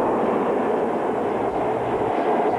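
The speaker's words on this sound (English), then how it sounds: "the rumble and lights of an oncoming train grew louder and brighter" An oncoming subway train rumbles steadily through a DC Metro tunnel, a loud, continuous roar of wheels and cars with no voices over it.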